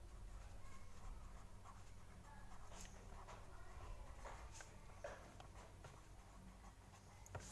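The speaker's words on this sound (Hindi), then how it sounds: "अब मैं लिखता हूं" A pen scratches across paper while an essay outline is written out, a faint continuous scribbling with small strokes and taps and no voice.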